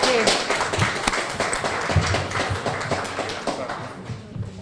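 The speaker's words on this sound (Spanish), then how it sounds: "Y también yo vuelvo a pedir otro aplauso para Floria" Dense crowd applause at an International Migrants Day gathering, a steady wash of many hands clapping close by throughout.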